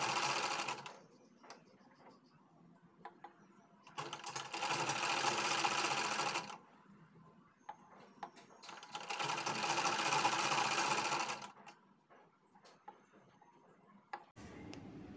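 Sewing machine stitching the neck band of a designer kurti, running in two long loud bursts separated by quiet pauses with small handling clicks, a short third burst starting at the end.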